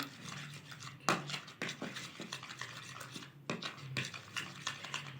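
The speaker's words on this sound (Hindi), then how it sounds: "अब देखिए, मैं इसको अच्छी तरह मिक्स कर लेती हूँ।" A thick skin paste of vitamin E and aloe vera gel is mixed with a spoon in a small bowl, making soft, continuous scraping and clicking strokes close by, with a few sharper taps against the side of the bowl.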